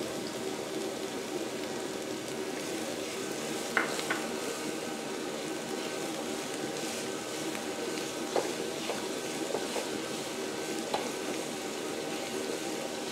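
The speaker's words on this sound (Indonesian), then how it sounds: "Kita tumis dulu bawang bombay." Onion sizzles as it sautés in a little oil in a pan: a faint, steady crackling hiss throughout, with a few soft clicks from a utensil.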